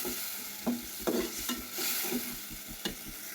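Chicken with garlic, salt, turmeric, chili powder and mixed spice sautés with a little water in a pan, hissing softly while a utensil scrapes and knocks against the pan in a few sharp, irregular strokes.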